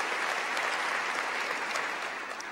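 Conference audience applauding, a dense sustained wash of many hands clapping at fairly close range that fades slightly toward the end, with no voices over it.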